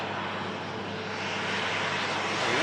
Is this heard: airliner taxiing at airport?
yes